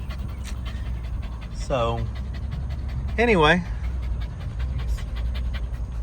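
A small dog pants steadily and quickly close by throughout, while a person talks over it and a faint whine rises and falls twice.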